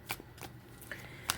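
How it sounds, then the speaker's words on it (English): Tarot cards being reshuffled by hand, a few quick papery riffles and soft flicks in close succession, near and fairly quiet with no talking. "I have pre-shuffled, but I want to shuffle again."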